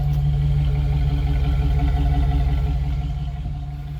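A Chevy Camaro RS 25th Anniversary Heritage Edition engine runs at a steady idle, a low even rumble close by with no voices, easing off slightly near the end.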